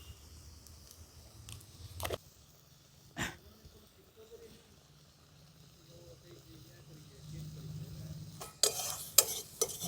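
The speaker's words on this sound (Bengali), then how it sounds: "দেখুন এটা ভালো করে নাড়াচাড়া করে নিয়েছি।" Vegetable momo filling being stirred with salt in a pan, soft scraping and stirring strokes, a few sharper utensil knocks near the start and a louder clatter toward the end, quiet overall with faint background.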